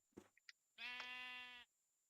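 A sheep in Minecraft gives one clear, wavering bleat lasting under a second, preceded by a few small clicks and soft game noises, with nothing else around it.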